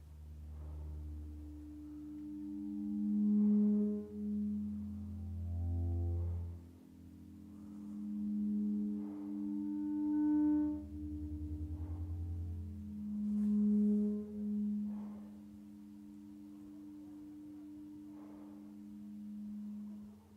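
Synthesized strings driven by an algorithm that makes each string follow its neighbours' amplitude, giving sustained, gently swelling tones that bloom and fade in overlapping waves, moderately loud with no voices.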